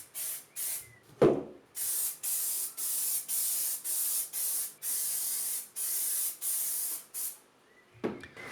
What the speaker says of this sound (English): when you're spraying the contact adhesive, make sure you have a nice even coat on both surfaces